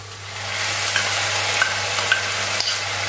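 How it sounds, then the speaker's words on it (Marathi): Tomato puree sizzling steadily in a pan of onions sautéed to a pink shade, a close, constant frying hiss with faint stirring ticks and a low hum beneath, no voices. "आता आपण आपली टोमॅटोची प्युरी घालूया"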